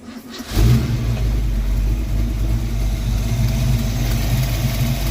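A Ford Mustang engine cranks briefly with one turn of the key, then catches and settles into a loud, steady running rumble that continues without interruption.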